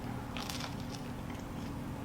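Someone bites into puffed, oven-baked vegan rice bread and chews it close up, with one crisp bite followed by soft, moist chewing.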